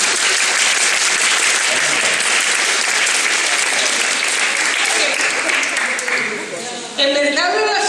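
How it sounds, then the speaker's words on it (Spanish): Loud, dense audience applause fills the room without a break, easing slightly near the end before a burst of louder clapping returns, at a cheese-making gathering in Spain. "Hay que darle un aplauso"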